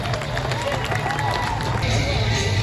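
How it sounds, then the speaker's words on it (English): A county show crowd applauds and cheers for the Royal Air Force Falcons parachute display team, a broad continuous roar of clapping and voices with a loudspeaker voice talking over it. "Round of applause and cheers for the Royal Air Force Falcons Parachute Display Team."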